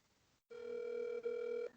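A single telephone ring tone sounds alone after a brief silence, a steady electronic buzz held for over a second with a short dip in the middle, loud and close, with no talk.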